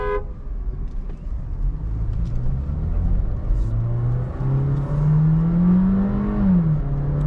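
A Volkswagen Virtus in manual override accelerates hard from a standstill, its engine revving loud and close with a rising, strained drone that climbs steadily through the run before easing briefly near the end.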